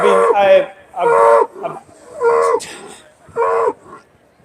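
Aberdeen-Angus cattle in the judging ring at the Royal Highland Show low in four fairly close, drawn-out moos, with short pauses and quieter sounds between calls.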